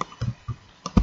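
Several quick keystrokes on a computer keyboard as a file name is typed into a GIS mapping program, landing as short separate clicks and small clusters, close and clear.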